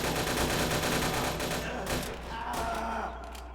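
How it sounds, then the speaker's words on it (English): Rapid, continuous gunfire from the video game Vampire the Masquerade Bloodlines, a dense burst of overlapping shots that stays loud and close, then thins into scattered single reports near the end. "The shots are going down fast."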